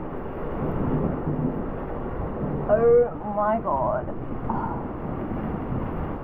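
Strong wind roars steadily against the microphone in a low rumbling wash, while a person briefly exclaims in the middle.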